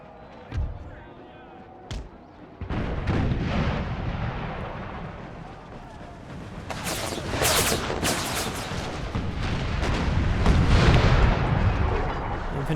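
Gunfire and artillery from the Empire: Total War Brothers vs. Brothers mod rumble through a battle, with heavy booms and crackling volleys building into dense, sustained fire, and a voice talks over part of it.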